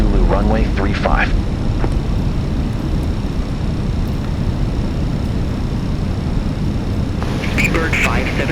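A British Airways airliner, Speedbird 570, on ILS final approach to runway 35 at Linate with landing gear down and flaps at 3. A loud, steady engine and airflow roar runs throughout, with brief radio voices near the start and end.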